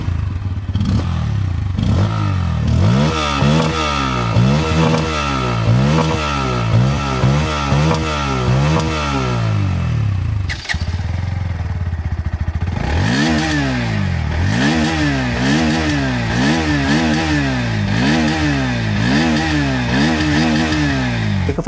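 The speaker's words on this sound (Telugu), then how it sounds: "వీటి యొక్క ఎగ్జాస్ట్ నోట్ ఒకసారి మీకు వినిపిస్తాను." Bajaj Pulsar N160 and NS160 160cc motorcycles rev in turn, their exhaust notes rising and falling in repeated throttle blips over a steady idle, loud and close, with a brief pause midway and no speech.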